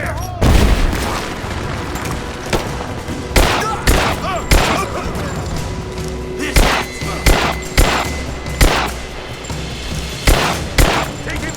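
Gunfire in Rise of the Tomb Raider: repeated loud, booming shots and bursts in an irregular rhythm, close and dense, with voices calling out between them.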